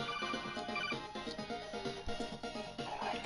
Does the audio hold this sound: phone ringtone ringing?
yes